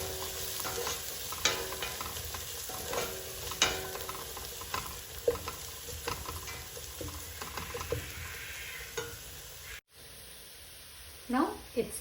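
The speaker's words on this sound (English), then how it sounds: "saute till the tomato leaves oil" Tomato with onion, ginger and garlic sautéing in oil, a continuous close sizzle with scraping stirs and clinks, a brief cut near the end, and a voice talking at times.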